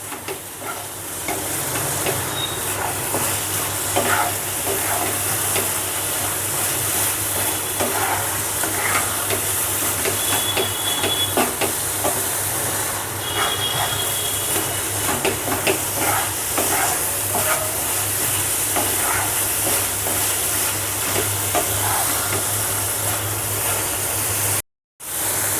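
Kalakand sweet mixture is stirred continuously in a pan over gas heat, a steady scraping, sizzling hiss with soft repeated strokes throughout, close up and with no talk.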